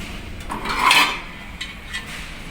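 Earthen clay pots handled in a shop in a Bahrain mall, giving a few faint ceramic clinks and knocks, one brighter clink in the middle, over a low hum of background bustle.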